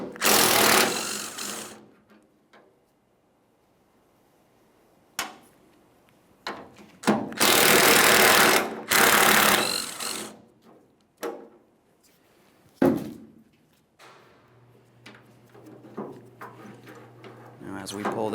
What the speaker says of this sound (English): We'll be continuing on with a 13 millimeter for each of our 2 mounting bolts.